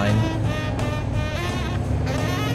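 Car engine hum from driving in the video game Mafia 2, a steady continuous drone throughout with faint background chatter.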